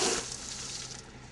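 A firefighter's hose line opened and aimed straight down, its water stream blasting into the ground with a steady broadband rush that is strongest at the start and then holds evenly, with no talk.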